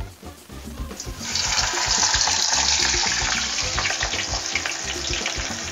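Prawns wrapped in kataifi pastry dropped into hot oil at 180 degrees, a loud bubbling deep-fry roar erupting after a second and holding steady and close.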